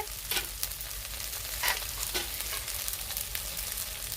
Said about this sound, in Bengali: আলুর সাথে মশলাটা আমি ভালো করে কষে নেব।